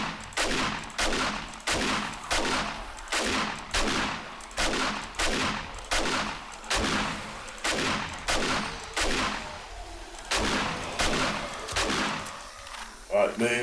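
Shotgun fire in the video game 7 Days to Die: a run of about a dozen loud, booming blasts spaced roughly a second apart, each with a short decaying tail, and a voice speaks between shots.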